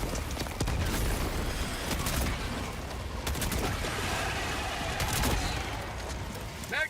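Heavy weapon fire from the Eruptor in Helldivers 2 on a high-difficulty mission, a few spaced, booming shots amid continuous battle noise, with a faint voice in the background.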